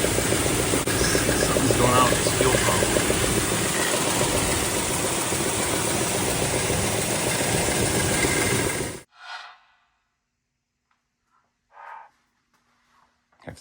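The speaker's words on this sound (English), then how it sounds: "Something's going on with this fuel pump." A running 1971 Dodge Super Bee with a faulty fuel pump gives a loud, steady engine drone with rhythmic ticking for about nine seconds, then cuts off, leaving only a few brief faint noises.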